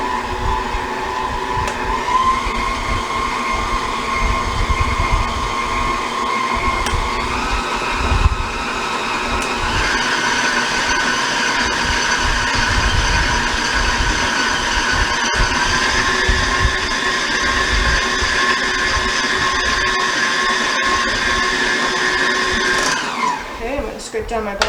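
An electric mixer beats cream cheese filling for an ice cream cake until creamy, a loud steady motor whir that shifts up in pitch partway through and runs continuously for over twenty seconds before cutting off.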